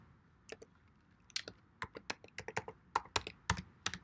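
A password is typed on a computer keyboard in a quiet room: a run of sharp, irregular key clicks, close and crisp, with short pauses between bursts.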